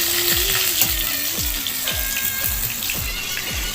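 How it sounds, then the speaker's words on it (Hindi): Pointed gourd (parwal) frying in hot oil, a dense, steady sizzle that stays loud and close throughout, with faint regular thumps repeating underneath and no voice. "ये हमारे परवर कुछ ऐसे तला गए मस्त बढ़िया"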